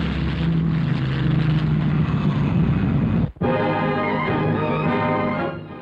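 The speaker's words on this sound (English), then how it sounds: "Here is another new means of propulsion, the turbine propeller" A turboprop aircraft engine with turbine-driven propeller roars loudly and steadily, cuts out abruptly for a moment, then resumes with a droning harmonic tone that fades slightly at the end.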